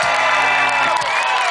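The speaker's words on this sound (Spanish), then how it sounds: "Vamos a dar un fuerte aplauso para recibir a nuestro hermano Eusebio El Chivo Cortés" Crowd cheering and whooping at a night event in Sun Valley, California, as a performer is welcomed onstage; loud, continuous shouts and cheers filling the whole short stretch.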